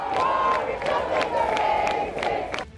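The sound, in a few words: protesters chanting slogans outside Prime Minister's house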